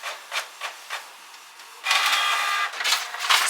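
A printer at work starts with a few soft pulsing strokes, then moves into a louder sustained whirring, rubbing run with a brief pause before resuming, heard close up and alone.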